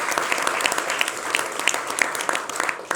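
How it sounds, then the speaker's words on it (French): Steady, dense audience applause in a talk-show studio, even and sustained throughout with no pause. "on peut l'applaudir très fort également"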